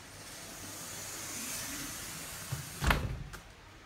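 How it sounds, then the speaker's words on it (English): A hotel suite door in a luxury presidential suite at Royalton Negril, Jamaica, swings shut with a single firm thud near the end, preceded by a quiet room hiss and followed by a short rattle. "Close this door."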